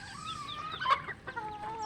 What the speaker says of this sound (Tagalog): Papakainin muna natin yung ating mga alagang mga pato, duckling, mga chicken.